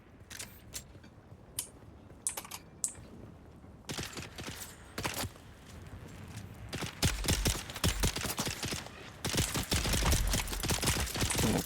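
Enemy gunfire in the video game Dune Awakening: rapid sharp shots crackling in bursts, sparse at first, then denser and louder volleys near the end.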